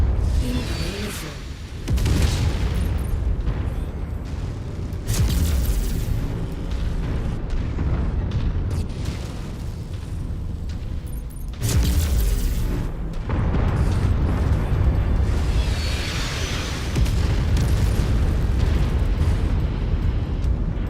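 Missile explosions in the mech combat video game MechWarrior 5 come as heavy, rumbling blasts one after another, loud and close, forming a dense, nearly continuous roar with big surges around the start, middle and end.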